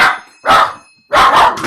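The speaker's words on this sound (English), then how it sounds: "that's just the dog at the door" A dog barks at the door indoors: two loud, close, sharp barks separated by a short pause, with no talking.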